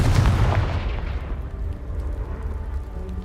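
A Confringo fire spell from the video game Hogwarts Legacy bursts with a deep, loud explosive boom that blasts debris apart, then decays into a low rumbling tail.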